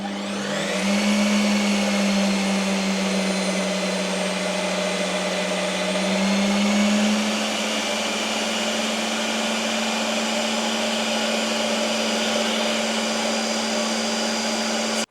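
Protein ice cream spinning in an ice cream maker on its standard ice cream setting, a loud steady motor whine with a low drone that holds constant from start to finish, no voices.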